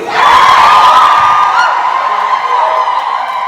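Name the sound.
audience shouting war cries and cheering at fashion show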